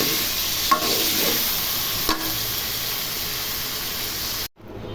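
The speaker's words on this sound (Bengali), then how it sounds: "আলু তুলে ভেজে নিব" Potatoes rubbed with turmeric and salt fry in a pan with a steady, fairly loud hissing sizzle and a couple of light clicks, then cut off abruptly just before the end.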